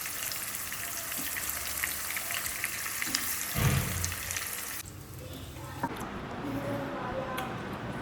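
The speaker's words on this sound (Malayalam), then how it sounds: "നമ്മളിവിടെ ഒരു 10 മിനിറ്റ് വെച്ചിട്ട് നമ്മളിത് വറുത്തെടുക്കുകയാണ്" Fish marinated in chilli, turmeric and masala fries in hot oil with a dense, continuous sizzle. Nearby handling breaks in midway, and then the spitting carries on more quietly.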